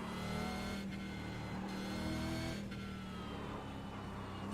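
Heavy race car in a video game on a twisty mountain track, braking hard: a steady loud engine drone with harmonic tones shifting as revs drop, continuous for several seconds with no talk.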